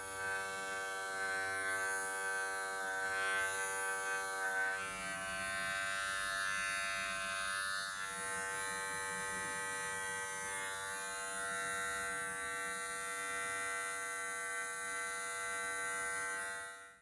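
An electric hair clipper cutting hair gives a continuous buzzing hum with strong harmonics, steady and close, its pitch dipping slightly now and then as it bites into hair.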